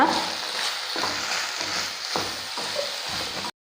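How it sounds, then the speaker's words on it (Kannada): Chicken liver dry-frying in ghee in a pan, a steady close sizzle with scraping stirs every second or so that briefly lift the crackle. "ಕುಡೊಂಜಿ ಸ್ಪೂನು ತುಪ್ಪ ಪಾಡ್ದು ಡ್ರೈ ಫ್ರೈ ಮನ್ಪುಗ"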